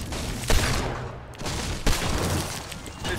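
Two loud, sharp gunshots in a video game, spaced over a second apart, each followed by a brief noisy decay, with continuous game noise between them.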